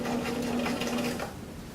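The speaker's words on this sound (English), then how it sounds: "I'm going to stitch very close to the edge first, and then I'll do a second row of top stitching also" A sewing machine runs close up, topstitching along a cuff edge in a fast even rhythmic whir that stops after about a second and a half.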